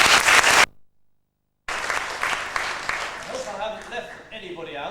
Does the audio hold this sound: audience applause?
yes